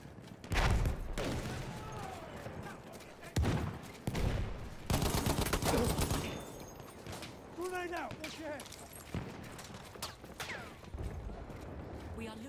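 Battlefield 1 multiplayer Conquest gunfire, with repeated loud shots and bursts scattered through the round, close and overlapping, mixed with battle noise while someone talks over it.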